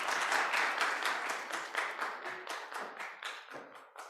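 A room of workshop attendees claps for a presenting group, a continuous patter of many hands that fades gradually toward the end, with no talk over it.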